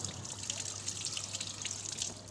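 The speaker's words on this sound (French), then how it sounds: "Alors là, je vais rapidement les refroidir avec l'eau froide." Cold tap water runs steadily over glass test tubes in a lab sink, a continuous close hiss and trickle with faint drips and no talking.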